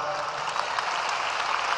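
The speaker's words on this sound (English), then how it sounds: "just have you give her a round of applause" Applause at a high school graduation ceremony in Dallas: a brief, steady patter of many hands clapping, moderately loud and even throughout.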